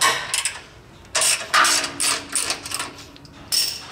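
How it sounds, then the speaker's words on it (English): A 16mm socket wrench backs out the last bolts holding the rear bumper to the crossmember of a Jeep JL Wrangler, giving close, intermittent bursts of metallic ratcheting separated by short pauses. "we're going to go ahead and remove the final 2 bolts that are attaching the bumper to the crossmember here"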